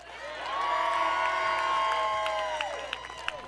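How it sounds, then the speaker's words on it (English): A crowd at a political rally in El Paso cheers and whoops steadily, swelling loud and then tapering over a few seconds, with scattered shouts rising above the din. "the crowd cheering"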